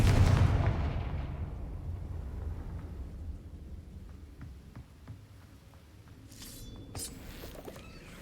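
A Confringo blast spell in the video game Hogwarts Legacy erupts as a loud, booming explosion at the start, its rumble fading away over several seconds, with faint game effects and a short sparkling burst near the end.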